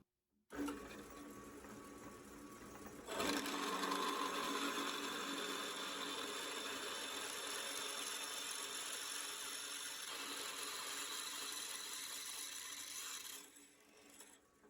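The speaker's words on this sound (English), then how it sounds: "let's see if we can't cut some holes big enough to suit those" A power tool bores holes through wood, sized for salvaged deck lag bolts, with a steady close mechanical whir that jumps louder partway in and holds until it cuts off near the end.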